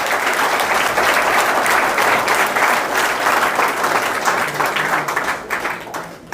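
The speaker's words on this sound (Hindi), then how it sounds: "उनके लिए जोरदार ताली हो जाए।" Loud, sustained applause from an audience at a community gathering in Beawar, steady clapping filling the whole stretch and tapering slightly near the end.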